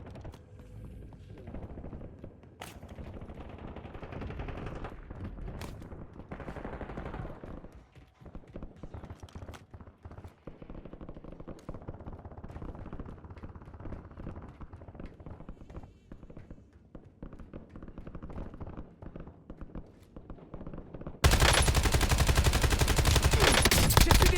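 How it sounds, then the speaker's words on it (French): Sustained gunfire from the video game Warzone, with dense bursts and rapid automatic fire running throughout, ending in a loud, continuous blast of shooting that dominates the final seconds. "J'ai reçu des tirs."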